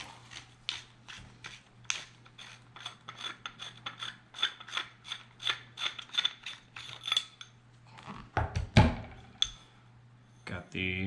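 A worn Spyder Xtra paintball marker with old, dry O-rings being taken apart for repair: a long run of regular, close metallic clicks, then a cluster of heavier clunks and rattles near the end.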